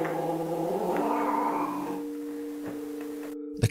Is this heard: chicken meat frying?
no